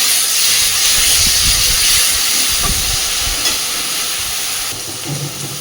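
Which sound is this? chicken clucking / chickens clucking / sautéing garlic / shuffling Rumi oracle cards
sautéing garlic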